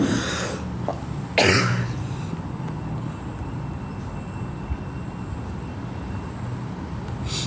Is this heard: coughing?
yes